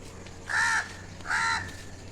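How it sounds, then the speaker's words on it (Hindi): Two loud, close crow caws in the morning at a cremation ground in Rishikesh, Uttarakhand, calling other crows to food that has been set out. Each caw is harsh and drawn out, with a short gap between them. "ये सुबह सुबह आ जाते हैं कौवे महाराज आवाज़ लगाने"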